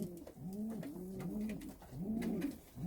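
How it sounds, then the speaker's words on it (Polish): A male pale-coloured pigeon coos repeatedly at close range, a low, rolling, rhythmic series of throaty calls with no speech. "Samiec grucha tylko pod kolory."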